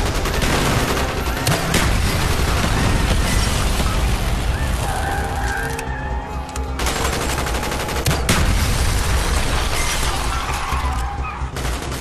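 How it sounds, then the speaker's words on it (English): Sustained, loud gunfire fills a street battle in the video game Call of Duty: Black Ops, with automatic rifle bursts, booming impacts and dense crackling shots layered over one another without letup. "Bowman, Carlos, lay down covering fire."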